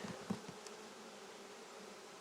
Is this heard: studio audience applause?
no